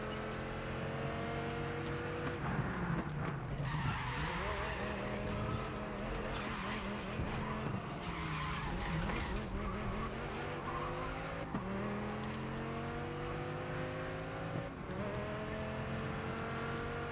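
A Dodge Viper races in the video game GRID Legends, its engine revving and shifting continuously with repeated gear changes and tire squeals, loud and close throughout.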